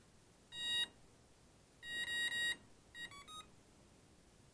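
Emax BLHeli 20A ESC rebooting after a throttle change, giving three short bursts of electronic beeps, thin and fairly quiet, with brief gaps between them and no talk.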